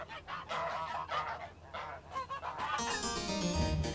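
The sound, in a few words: geese honking on a Tudor farm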